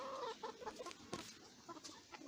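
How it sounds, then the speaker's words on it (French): Vorwerk and Sussex roosters and hens cluck softly nearby, a string of short, irregular clucks and throaty calls at low volume in a quiet farm pen. "Donc là j'ai mon coq Vorwerk, voilà. Mon coq Sussex."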